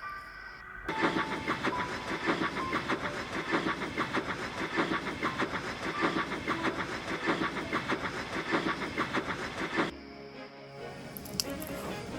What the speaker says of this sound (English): Thomas was taking the mail train for Percy